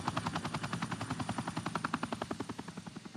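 A rescue helicopter's rotor thumps in a fast steady rhythm, loud and close, with engine whine beneath and no voices.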